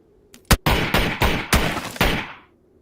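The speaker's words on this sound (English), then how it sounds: "he got some SLR shots off there. Hit me a bunch." Five loud, close SLR rifle shots fire in an uneven rhythm in PUBG on the snowy Vikendi map, each a sharp crack with a decaying tail, the last fading out into quiet.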